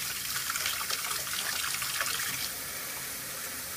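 Tap water runs steadily into a sink as a soapy paint brush is rinsed until the water runs clear, a continuous close splashing stream that softens slightly near the end.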